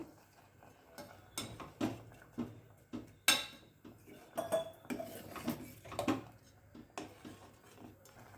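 Pots and utensils clink and scrape in an irregular rhythm as masala is mixed in a cooking pot for a traditional mango dish, close and moderately loud with no talk.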